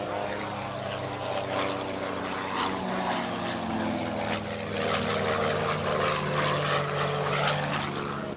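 Propeller aircraft drone overhead at an air fair, from a Pitts Special aerobatic biplane to a large Air Force tanker, a steady loud engine hum with shifting pitch that swells toward the end, no talk.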